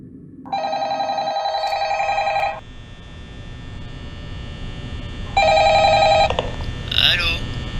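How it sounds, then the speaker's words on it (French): Incoming phone call in a Minecraft Five Nights at Freddy's horror game: two loud bursts of electronic ringing separated by a pause, over a steady low hum. "Il y a un appel."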